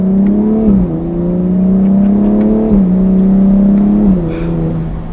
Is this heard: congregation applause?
no